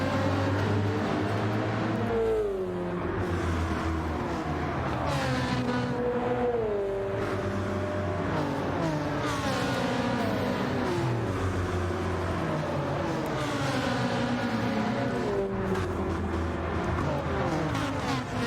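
Race car engines, a Ferrari among them, howl through the Bathurst 12 Hour in Gran Turismo 7, loud and continuous, their pitch rising and falling through gear changes as cars pass close by.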